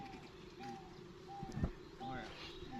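Zebra doves (perkutut) at a weekly bird-training gathering in Tuksongo, Borobudur, Magelang, giving soft, repeated coos spread across the clip, faint and distant under low background chatter.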